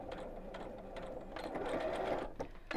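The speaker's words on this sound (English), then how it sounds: "let's sew up to the end of that mark" A sewing machine stitching fabric along a marked line, a steady, close, fast mechanical whirring and rattle running for under three seconds with no talk.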